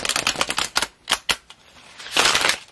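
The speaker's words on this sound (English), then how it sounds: "I will shuffle them a bit." A deck of stiff, snappy tarot cards being shuffled up close, giving a run of quick crisp riffling flicks and slaps, a brief pause, then a longer brushing riffle, fairly loud with no talking.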